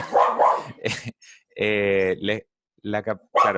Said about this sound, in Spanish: Disculpen mi perro